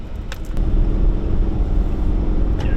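A muscle car's engine drones steadily with a deep, loud rumble on the road as it accelerates, with wind noise on top and no talking.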